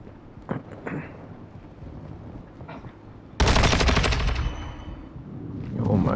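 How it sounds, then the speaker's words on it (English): Heavy sustained gunfire in a Modern Warfare 2 multiplayer gunfight, a sudden loud stretch of rapid automatic shots after quieter scattered firing, close and dominant. "that gunfight was so cool"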